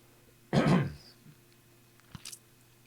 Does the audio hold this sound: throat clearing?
yes